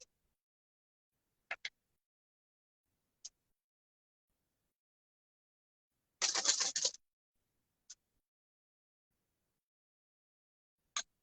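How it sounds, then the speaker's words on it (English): A deck of playing cards is shuffled in a quiet room: faint isolated card snaps and flicks, then one short riffle burst and a few more single clicks. "Let's take your card, shuffle it back in."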